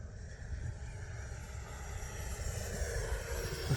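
Steady whine of a radio-controlled electric ducted fan jet at full throttle, a faint, even roar with high tonal hiss that builds slightly over a few seconds, with no talking.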